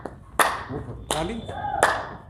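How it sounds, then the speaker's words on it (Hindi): Three sharp hand claps overhead during a group yoga exercise, spaced roughly evenly and loud against a quiet background, with a faint voice between them. "ऊपर ताली,"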